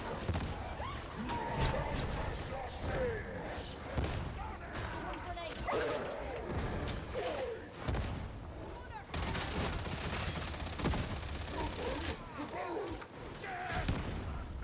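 A barrel explodes in Darktide, the Warhammer 40,000 shooter, amid dense gunfire and combat noise, with a heavy burst standing out in the loud battle mix and someone talking over it.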